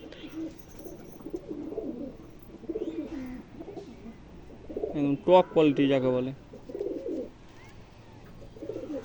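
A male Fulshira pigeon coos in a short rhythmic burst at close range, with someone talking before and after.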